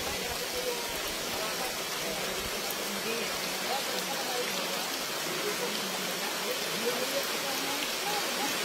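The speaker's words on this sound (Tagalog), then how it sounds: "Abutan pa kami ng ulan mga kabayan." Steady rain falls in the mountains, a close, even hiss of drops on surfaces that continues without letup throughout.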